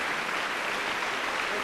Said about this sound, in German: großen Applaus für den zweiten Platz